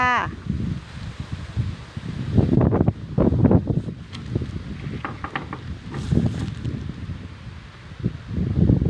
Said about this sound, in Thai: บรรยากาศลมแรงมากในป่ายูคา